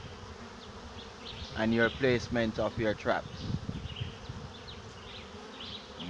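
Honeybees buzz around a bucket swarm trap as a swarm moves in, a steady insect hum heard alone at first, then under a voice in the middle.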